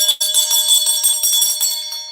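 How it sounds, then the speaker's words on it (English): A small hand bell rings repeatedly during a tarot card reading, bright metallic strikes overlapping in a steady ringing pattern, close and loud with no talk. "hold on, let me get the other bell."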